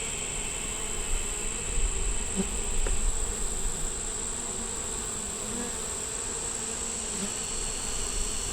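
Many beetles give off a constant insect buzz, a steady high drone that runs throughout with slight swells, close and moderately loud.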